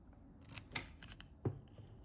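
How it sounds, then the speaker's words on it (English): Scissors snip through ribbon for a paper craft, giving a few quiet, crisp cuts spaced over two seconds, close by in a calm room. "and then trim my ribbon"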